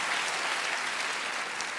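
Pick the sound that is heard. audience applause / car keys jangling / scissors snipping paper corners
audience applause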